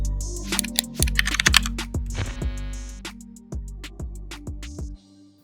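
Typing on a $99 mechanical keyboard with an aluminum case: sharp, close keystrokes clatter in quick irregular bursts over a steady low hum, with no talking.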